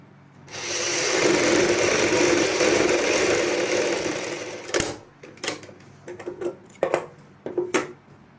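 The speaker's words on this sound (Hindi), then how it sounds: "अस्तर के ऊपर आपने सिलाई लगानी है।" A sewing machine runs steadily for about four seconds, stitching over the lining of a choli blouse, then gives several short bursts with pauses between them as the fabric is adjusted. It sounds close and there is no talk.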